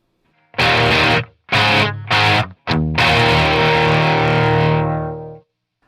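A loud, distorted electric guitar blasts out a few short chopped chords, then one long sustained chord that rings and slowly fades.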